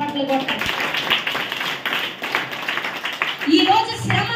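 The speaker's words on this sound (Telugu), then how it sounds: "గట్టిగా చప్పట్లు కొట్టాడు." An audience at a youth revival meeting claps in scattered, uneven bursts mixed with a speaking voice, with sharp hand strikes rising and falling rather than forming a full, steady ovation.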